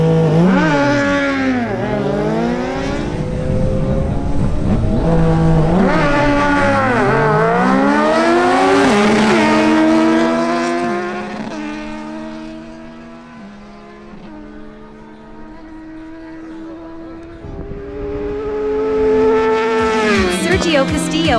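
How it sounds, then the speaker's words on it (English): A Suzuki GSX-S750 and a Yamaha MT-09 motorcycle race in a drag race, their loud engines rising in pitch through repeated gear shifts and then fading into the distance before a later rise. "Next, the Suzuki GSXS750 ridden by Christian Alcala faces the Yamaha MT-09 ridden by Sergio Castillo."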